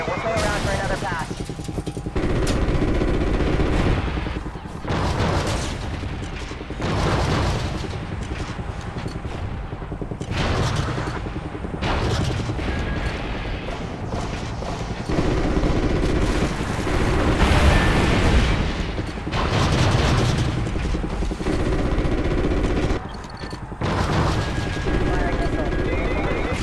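Heavy anti-aircraft fire and booming blasts from a Call of Duty Ghosts mission, rumbling steadily with bursts of gunfire and explosions over an aircraft drone, voices speaking over the battle at times.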